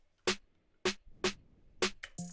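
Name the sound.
bit crush snare and clean snare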